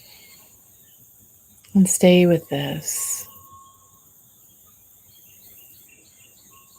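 Crickets and other insects chirp in a faint, steady outdoor background while a calm voice speaks briefly; a high thin trill runs underneath throughout.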